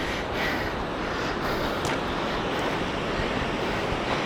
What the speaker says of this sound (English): there's a series of waterfalls